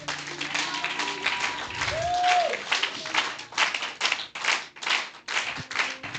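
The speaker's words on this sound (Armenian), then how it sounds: "Բարձր ուզում եմ ծափարես մեր Աստծուն։" A church congregation claps loudly in praise of God during a sermon, a rapid, dense rhythm of many hands that continues throughout, with faint voices mixed in.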